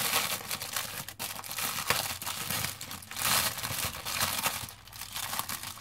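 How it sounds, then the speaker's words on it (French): Roll of plain cotton fabric being unwrapped from its plastic packaging, with steady close crinkling and tearing of plastic running the whole time, loud and continuous with no talk. "Je vais le déballer."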